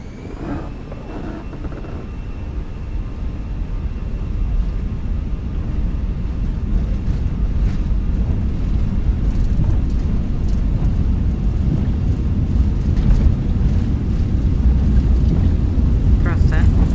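Lufthansa Airbus A320 engines in MSFS2024 spooling up on the takeoff roll, a deep rumbling roar that builds and holds steady, with people talking over it.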